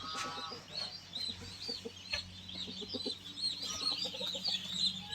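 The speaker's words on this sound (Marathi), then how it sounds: "हा पूर्ण सिल्की पक्षी आहे" Silkie chickens cluck steadily in a poultry brooding area, many birds overlapping in soft, continuous chatter with occasional louder calls, fairly close.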